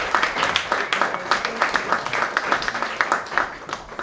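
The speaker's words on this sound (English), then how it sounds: "Just a round of applause and thank both of them." Audience clapping after a student union hustings debate, a moderate room of hands beating in quick irregular patters for a few seconds, fairly close and even in loudness.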